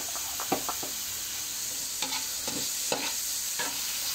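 Shrimp, garlic, onion and tomato sautéing in a pan, a steady bright sizzle broken by several stirring scrapes and clinks spread through the clip, with no talking.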